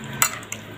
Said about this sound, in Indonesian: Ini mie goreng